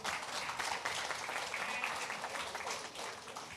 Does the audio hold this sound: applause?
yes